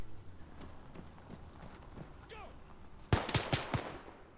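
A short burst of distant gunfire from WW2-era weapons in Arma 3, about four quick cracks close together near the end, after a stretch of quiet ambient noise.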